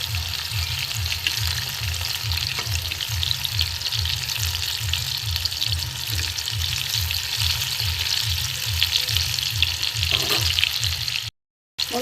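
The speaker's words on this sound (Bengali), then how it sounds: "ভালো করে ভাজা হোক।" Pieces of ash gourd fry steadily in hot oil with sugar, giving a continuous close sizzle with a rhythmic churning pulse as they are turned, and no voices.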